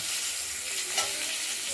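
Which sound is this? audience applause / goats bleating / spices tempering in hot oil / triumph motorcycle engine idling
spices tempering in hot oil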